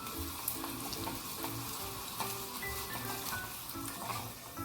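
Green chilies fry in hot oil in a pan for perugu charu, giving a steady, close crackling sizzle with scattered pops and light stirring throughout.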